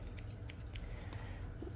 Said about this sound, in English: My scissors were backwards.